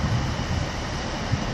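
Arriva Trains Wales class 158 diesel unit departing a station, a steady low rumble and engine drone at moderate distance, continuous and unvaried with no voices.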